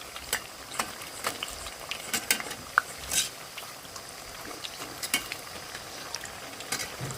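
Spinach challa punugulu fritters frying in oil, a steady sizzle broken by frequent sharp pops and a few light utensil clicks, close and moderately quiet with no voices.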